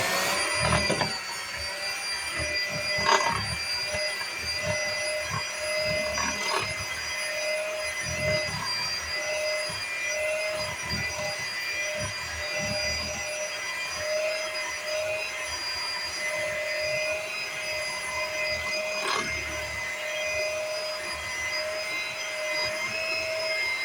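An electric mixer beats banana bread chocolate chip cookie dough with butter and an egg, giving a steady, loud motor whine that runs unbroken and close, with a few brief knocks from the beaters.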